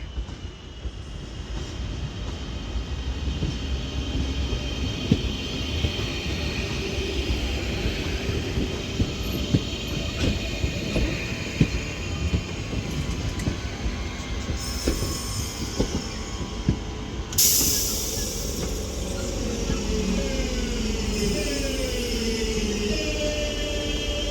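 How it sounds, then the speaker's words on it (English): A Northern Class 323 electric unit pulls into Stoke-On-Trent station on the Manchester branch of the West Coast Main Line, a steady close rolling rumble with wheel clatter and brief high squeals from the wheels as it slows. "This Northern 323 now terminates into Stoke-On-Trent with the 11:40 Northern service from Manchester Piccadilly terminating here"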